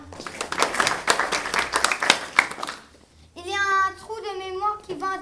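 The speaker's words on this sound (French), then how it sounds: "Nous voudrons tous vous remercier pour vos applaudissements" Audience applause fills a school gala evening, with dense, close clapping for about three seconds before it fades and children's voices take over, talking and singing.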